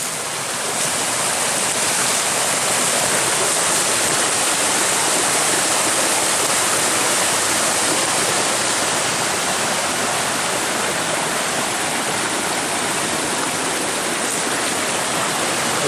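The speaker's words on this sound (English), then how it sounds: "came across this small waterfall." A small waterfall along a forested hiking trail through laurel gives a dense, steady rushing roar, loud and unbroken throughout with no voices.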